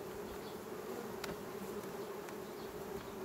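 A honeybee colony in a hive being reduced to eight frames hums in a close, continuous buzzing drone, loud and steady with no talking.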